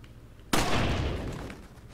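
A single heavy gunshot in the video game Resident Evil 4, a sudden loud blast with a broad booming tail that fades over a second and a half.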